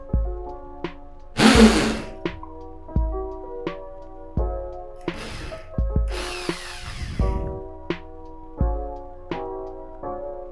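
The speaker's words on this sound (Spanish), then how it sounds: "Utilizando una broca de métrica 6 y un taladro más grande, vamos a hacer un par de agujeros." A larger power drill with a 6 mm bit whirs in short bursts, two louder drilling runs standing out among repeated tool knocks and taps.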